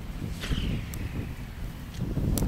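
Steady wind blowing across the microphone at an outdoor disc catch competition, a continuous low rumbling buffet with faint higher whistles and brief rustles.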